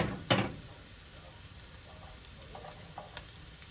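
Vegan mushroom-walnut sausage sizzles quietly in a pan, a low steady frying hiss with a sharp utensil knock near the start and a few soft stirring scrapes.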